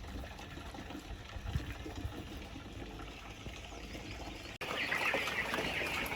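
Two-week-old birds at evening feed in a brooder: a busy, noisy mix of chirps and calls with some trickling water, growing louder after a brief cut partway through.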